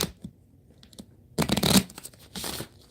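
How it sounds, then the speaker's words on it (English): A deck of tarot cards is shuffled by hand, giving two loud, close bursts of rapid riffling flutter separated by short pauses, with faint handling noise before the first burst. "Let me get one more shuffle,"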